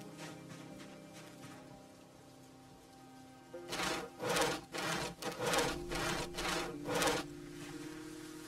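In the Project Zomboid video game, nails are driven into wood flooring: after quiet ambience, a run of about seven evenly spaced, loud thudding knocks plays in quick rhythm, then fades.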